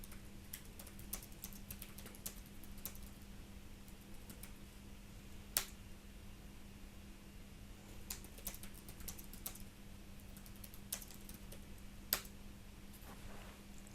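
Quiet, steady clicking of computer keys as a message is typed, with irregular soft taps, a few sharper strokes, and a constant low hum beneath, no voices.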